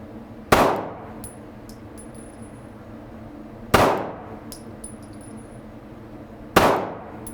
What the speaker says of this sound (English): Let's see if I'm going to shoot better this time.